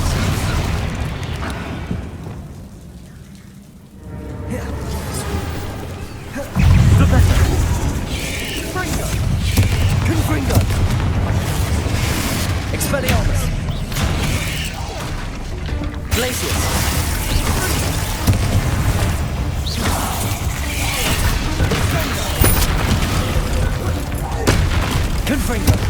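Confringo blasting spell explosions in the video game Hogwarts Legacy, a dense, sustained barrage of booming blasts and crackling impacts over a constant rumbling game soundscape, loud throughout, with a brief quieter lull early on.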